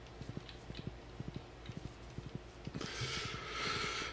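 Horse hooves clip-clopping in Stardew Valley, a steady quick trot of light, close knocks repeating in pairs, ending under a rising rustling noise.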